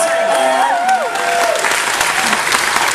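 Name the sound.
audience applause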